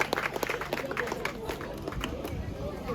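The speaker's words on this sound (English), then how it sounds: "Let's clap for her. Let's encourage her." An audience at an Urhobo cultural festival at UNIBEN claps for a contestant, a dense burst of hand claps under crowd chatter and a voice on a loud hall mic.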